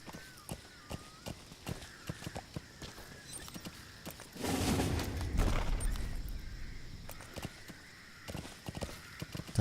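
A white horse in Metal Gear Solid 5, called in as a companion, trots up with crisp, rhythmic clip-clopping hooves, louder and denser in the middle as it arrives, then easing back to a steady gait.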